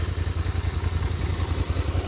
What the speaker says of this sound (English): I hope you can hear the engine.